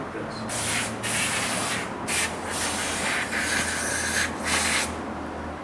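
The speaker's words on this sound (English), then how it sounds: "So to clean this, you just use a spray cleaner also." Spray cleaner blasts onto a fine stainless mesh screen from a brake pump, several close, loud hissing bursts separated by brief pauses, with a low hum running underneath.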